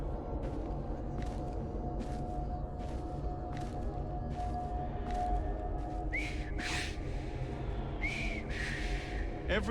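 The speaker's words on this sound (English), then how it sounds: "I've just learned to whistle." A person whistles in Assassin's Creed Syndicate, a few short rising whistled notes near the end, heard over a steady low ambient hum and murmuring background.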